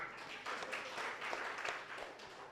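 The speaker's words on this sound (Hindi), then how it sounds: "आपके लिए तालियां।" An audience breaks into applause, a dense, even wash of many hands clapping at once, sustained and fairly quiet throughout the short burst.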